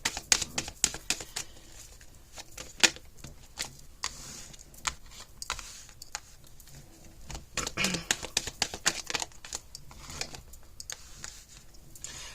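Tarot card decks are shuffled in quick, crisp bursts of riffling and clattering, close and uneven, with brief pauses between shuffles.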